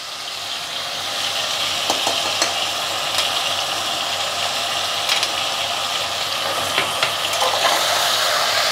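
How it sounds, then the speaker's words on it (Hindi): Mutton frying in a pan with ginger garlic paste gives a steady, close sizzle, with scattered crackles and scraping stirs, and no voices. "2 चम्मच अदरक लहसुन का पेस्ट डालेंगे हम।"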